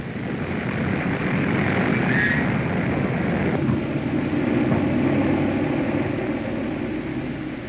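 A B-17 bomber in flight, its engines giving a steady, loud, continuous propeller drone that holds nearly unchanged throughout, with no talk.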